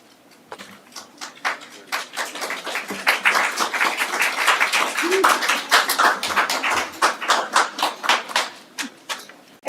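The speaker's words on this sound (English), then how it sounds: "Got a hand clap." Hand clapping at a city council meeting: a room of people applaud in a steady run of sharp claps for nearly ten seconds, swelling in the middle and thinning toward the end.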